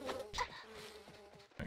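Purple bees in the video game Grand Fantasia give off a faint, fluttering insect buzz in short pulses, with no talking.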